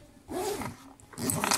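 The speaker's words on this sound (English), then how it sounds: "I'm zipping up the bag and the pouch." A zipper drawn shut on a school bag and then on a pouch, two quick zipping bursts close by with a short pause between them and no talk.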